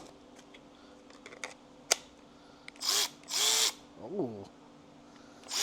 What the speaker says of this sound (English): Gotta bust open this electric ratchet, try that baby out.